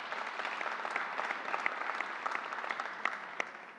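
Audience applause for Northwell CEO Michael Dowling at a Governor Cuomo announcement at Suffolk County Community College: steady, even clapping from a crowd, moderately distant and fairly soft, holding for a few seconds with no talk over it.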